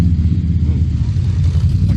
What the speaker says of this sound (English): I can feel that exhaust pounding my leg